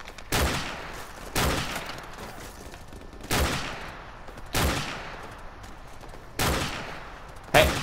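Gunfire in Call of Duty Modern Warfare, six loud, evenly spaced bursts roughly every second, each with a fading echo tail, over a low continuous game rumble.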